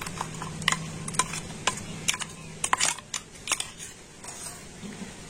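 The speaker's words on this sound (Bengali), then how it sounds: "আর এখন আমি এই পেস্টটাই ছাঁকনির মধ্যে দিয়ে ছেঁকে নেব।" Ground sago paste is pushed and stirred through a large sieve, producing faint, irregular scraping ticks and light clinks of a spoon against the strainer in a quiet kitchen.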